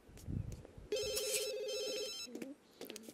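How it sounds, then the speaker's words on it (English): A telephone rings in The Sims 2 video game: one bright, sustained electronic ring lasting about a second, with short game sound effects and game chatter before and after. "I gotta answer the phone."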